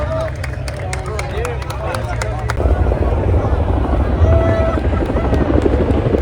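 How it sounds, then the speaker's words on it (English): Military helicopter formation flyover of AH-6 Little Birds, Pave Hawks and Chinooks at a US Army 250th anniversary parade in Washington DC, a steady low rotor rumble that swells midway, heard amid crowd noise. "It's pretty cool helicopter formation. Some AH-6 Little Birds, followed by some Pavehawks and Chinooks."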